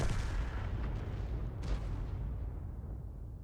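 A 105 leFH18B2 artillery gun firing in a tank video game, heard as a dense, rumbling boom with a sharper crack midway, sustained low roar and no talk.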